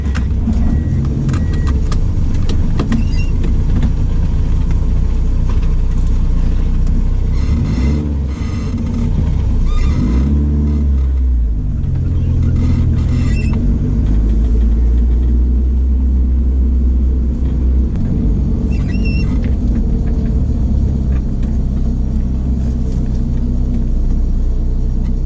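A Mitsubishi DSM car at a drag strip, its engine roaring loud and continuous through a hard run with rumbling low end and gear-change dips, no talking.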